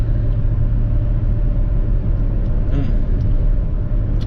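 A 1992 Ford F-150 cruises on the highway, its steady loud low rumble of engine and road noise filling the cabin continuously without a break.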